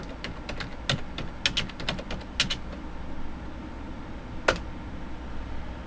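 Keys clacking on a computer keyboard in irregular quick bursts, close and clear, ending in one sharp louder keystroke, with no talking.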